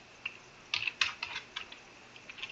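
Fingers type on a computer keyboard in short, irregular clusters of close, light key clicks with small gaps between them.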